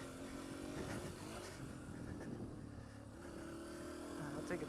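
Engine of a Honda CRF150F dirt bike doing donuts, a steady droning hum that holds at a moderate distance and lifts slightly in pitch near the end, with faint background noise.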